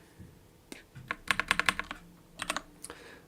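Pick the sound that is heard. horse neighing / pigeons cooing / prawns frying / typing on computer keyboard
typing on computer keyboard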